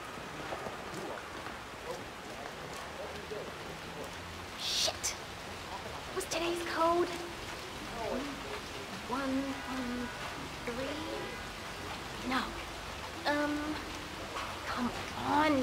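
Steady rain falling in the video game Hitman 3, set in Chongqing, a constant wash of drops heard beneath a voice and scattered short game sounds.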